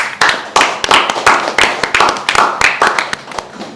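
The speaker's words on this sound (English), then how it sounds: "I think that deserves a round of applause." A small crowd claps in lively, uneven bursts, loud and close, with the applause holding steady for several seconds.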